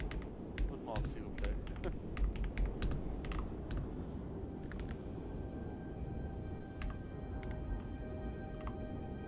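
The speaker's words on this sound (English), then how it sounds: "He is typing the message" Computer keyboard typing during a tabletop role-playing session, a message pecked out with one finger; irregular soft clicks run under steady background noise and murmur, with occasional sharper taps.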